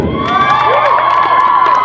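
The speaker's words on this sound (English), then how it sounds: "we're going to give you a thunderous round of applause." A crowd cheers and shouts loudly, with high excited voices and whistling tones layered over a continuous roar, close and energetic.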